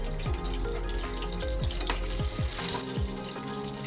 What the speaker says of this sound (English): Once the oil is hot, I'll fry the eggplants.